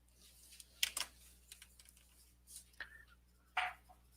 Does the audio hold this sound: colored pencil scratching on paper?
yes